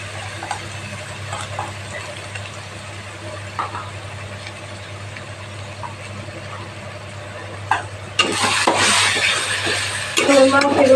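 Ground spices mixed with water hit a hot pan of frying masala for a fish jhal: a low hum and faint clinks give way to a sudden loud, broad sizzling burst that stays strong near the end.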